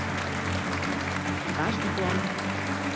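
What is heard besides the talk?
audience applause at awards ceremony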